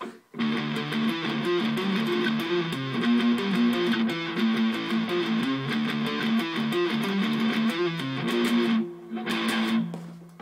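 A distorted electric guitar plays a steady two-note harmony line, alternating thirds and sevenths as the melody moves, loud and continuous with a brief dip near the end.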